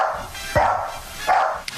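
Two dog barks sound on a sports radio show, spaced about a second apart and fairly loud over a steady studio background.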